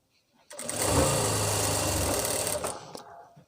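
A sewing machine runs in one steady burst of rapid stitching along the side seam of palazzo pants, close and loud, starting after a short pause and winding down near the end.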